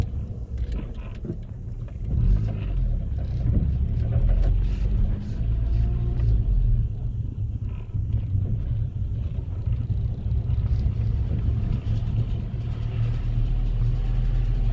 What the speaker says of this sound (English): Clacking sound is just really noisy.